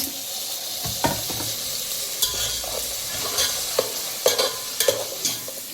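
Chopped tomatoes stirred into sizzling masala and onion paste in a pan for chicken curry, with steady frying hiss, repeated sharp scrapes and clacks of a spoon against the pan, and no talking.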